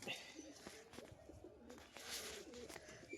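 Pigeons coo in a low, repeated murmuring rhythm at a pet pigeon loft, steady across the moment with some faint chirps and background noise above.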